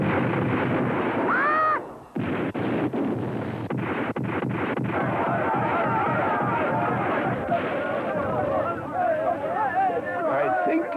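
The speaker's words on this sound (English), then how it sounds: "Fire torpedoes! A torpedo! I'm afraid we're sunk." Torpedoes fired in a cartoon submarine battle: a dense run of booming launches and explosive blasts in quick succession, loud and continuous under excited cartoon voices and commotion.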